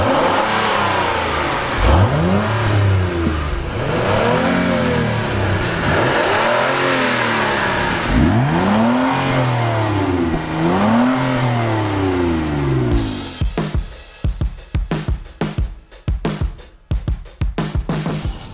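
Acura MDX engine revving through genuine dual exhausts, rising and falling in several repeated swells before breaking into choppy bursts and pops, loud and close with no talking.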